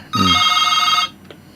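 A telephone rings once in a sustained electronic trill lasting about a second, clear and fairly loud, followed by a faint short blip.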